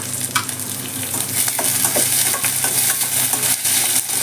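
Chopped mint hits hot ghee in a pan, giving a steady, close sizzle with bursts of crackling and occasional stirring scrapes, no voices.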